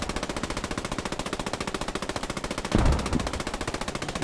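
Rapid automatic gunfire in the World War II shooter Post Scriptum, a steady rattling burst running the whole stretch, with one louder nearby blast or impact partway through.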